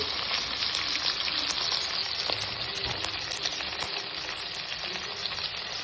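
Onions and green chillies fry in a pan with a steady, close sizzle that crackles continuously for the whole stretch, dense and even with occasional sharper pops.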